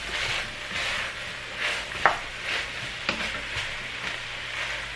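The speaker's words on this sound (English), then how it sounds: "But I'll kind of try to saute these a little bit." Leeks, celery and onions sauté in a pan for simmered tripes, with a soft continuous sizzle broken by a few light clicks of stirring and a utensil tapping the pan.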